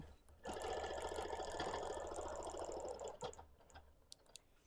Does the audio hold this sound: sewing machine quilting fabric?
yes